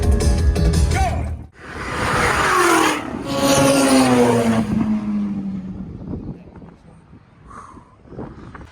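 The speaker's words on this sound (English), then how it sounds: "Racers, start your engines." Race cars roar off the line at a One Lap of America event, a loud rising engine sweep passing close amid wind buffeting, then fading into quieter rumbles and distant noise.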